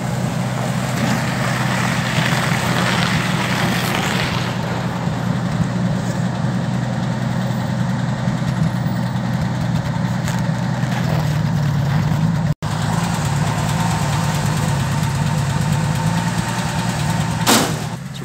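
A 1961 Bombardier narrow gauge machine sits idling in a yard while its engine warms up, a steady, unbroken mid-low drone that carries on for the full stretch, with one brief dropout partway through.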